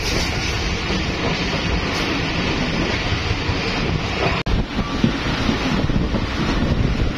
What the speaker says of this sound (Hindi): GMU-15 भी अच्छी खासी स्पीड मार रहा है, 1500 HP का लोकोमोटिव है